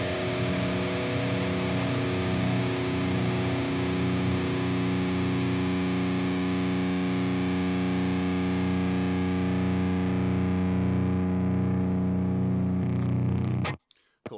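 Distorted electric guitar power chords ring out through an Axe Fx 3 amp modeler with a noise gate in a heavy metal tone, one long sustained chord holding loud and steady before being cut off abruptly near the end.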